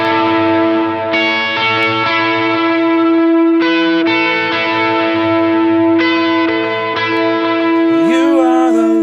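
Electric guitar soaked in delay and overdriven tone plays a worship song part, sustained notes washing into one another with echoing repeats and a thick, continuous, fairly loud sound, ending in a bending swell, with no talking.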